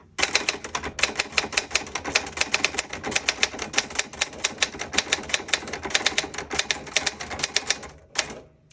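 Rapid, sharp clacking of the keys of a 1966 Olivetti-Underwood 21 manual typewriter in a steady stream, close up, ending with a pause and a single final strike.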